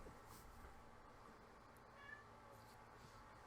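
A pet cat meows faintly and briefly somewhere off in a quiet room, against low background hiss.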